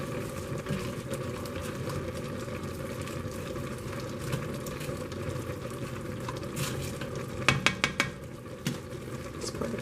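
Spinach and sausage pasta is stirred in a pot, a steady wet sizzle and churn with a few sharp clinks of a utensil against the metal near the end, no voices.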